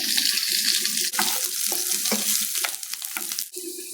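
Onion hitting hot oil with cinnamon stick, star anise and cardamom, a steady close sizzle with brief stirring scrapes breaking it up, no voices.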